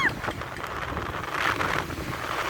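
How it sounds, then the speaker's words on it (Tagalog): Steady wind rushing and buffeting against the microphone, a constant low roar with no talking. "Ang lakas ng hangin!"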